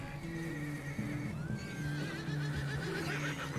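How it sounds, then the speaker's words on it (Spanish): A horse in the video game Red Dead Redemption 2 gives a clear whinny over a soft game soundscape with low musical tones and faint hoof clops. "Oye, y mi caballo."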